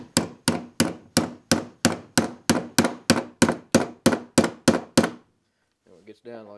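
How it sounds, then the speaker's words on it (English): A hammer taps a roll pin into the shaft hole of a Briggs and Stratton starter gear: about fourteen sharp metallic strikes, close and evenly paced, followed by a brief voice. "get your pin, line it up, get it started with the hammer."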